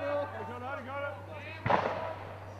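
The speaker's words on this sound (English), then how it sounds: "gunshot" A single sharp gunshot cracks out from the street beside a baseball park during a collegiate summer league game. It lands as one sudden bang over a steady hum while someone talks before and after it.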